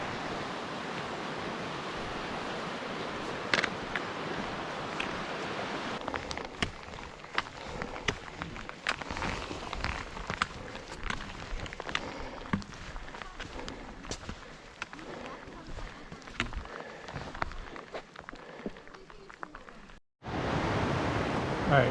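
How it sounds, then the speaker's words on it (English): Henry's Fork Creek, swollen to river size in the High Uintas, rushes in a steady broadband roar of fast water that holds almost constant for about twenty seconds before it briefly cuts out near the end. "this is the Henry's Fork Creek, actually probably river right now. Definitely a river."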